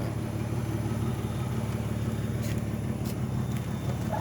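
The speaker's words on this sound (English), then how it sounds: "Let me hit a little gas for y'all" A V6 car engine fitted with loud aftermarket pipes rumbles steadily at close range, a deep continuous idle with slight throttle blips, heard alone without talk.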